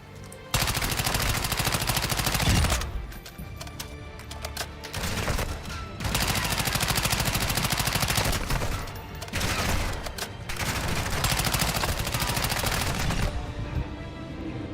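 Chimera assault rifle firing in Call of Duty DMZ: loud, sustained automatic bursts with only short gaps between them, running nearly nonstop from start to finish.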